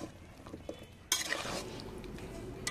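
Bottle gourd curry with a fish head being stirred lightly in a pan: faint clinks at first, then a sudden scrape and a soft, steady sizzle, close and fairly quiet, without talk.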